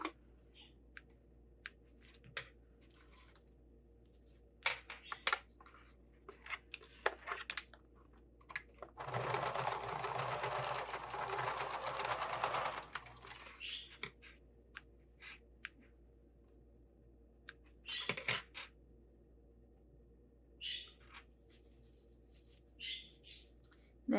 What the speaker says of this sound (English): Okay, so I'm going to sew these ends.